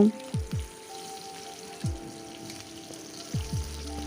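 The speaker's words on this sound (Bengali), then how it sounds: "পেঁয়াজটা একটু লাল করে ভেজে নিচ্ছি।" Chopped onions fry in oil with black cumin seeds, a soft steady sizzle running under several brief falling tonal sweeps and faint background sounds, with no voices.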